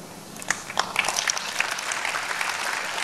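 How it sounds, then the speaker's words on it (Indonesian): Church congregation clapping hands during a sermon, a dense, moderately loud patter of applause from many people at a steady rate, with no talk over it. "Saudara tepuk tangan."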